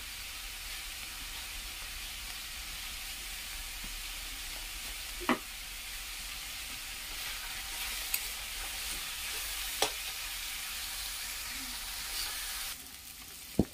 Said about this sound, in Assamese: মোৰ প্ৰায় চব্জিখিনি ভাজা হৈ গ'ল